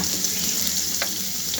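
Chili powder, turmeric, chopped onion and ginger-garlic paste sizzle in hot oil, a steady bright hiss with a faint scrape of stirring.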